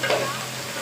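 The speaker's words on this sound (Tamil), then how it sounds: "சேர்த்து நல்லா கலந்துக்கலாம்." Ingredients with salt are stirred through hot oil in a pan, a short spoon-scraping stir over a soft, steady sizzle, close and fairly quiet.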